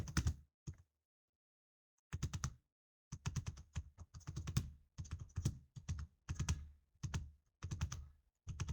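Quick keystrokes on a computer keyboard, entering a sheet name in a spreadsheet: a short burst, a pause, then steady rapid clicking in close, quiet bursts with no voice.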